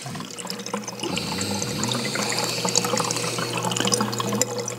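Hands splash and swish through the water of a 30-gallon aquarium tank, a steady close-up sloshing and trickling that continues without pause and with no talking.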